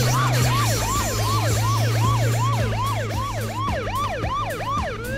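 A police car siren from the video game H1Z1 wails in a fast, steady repeating cycle, loud and close, running unbroken from start to finish with no talking over it.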